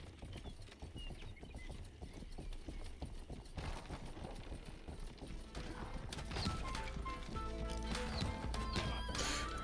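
Horse hooves clip-clopping at a gallop in the western video game Rustler, a steady rapid beat under game music and effects, with a neigh standing out and the racket growing louder in the second half.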